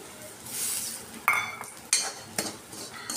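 Semolina roasting in ghee in a kadhai, soft frying hiss broken by several sharp scrapes and clinks of a spoon against the pan, close and intermittent, with no talking.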